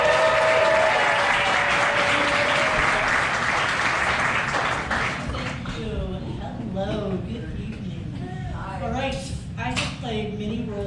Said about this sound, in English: please, a warm round of applause for Sherry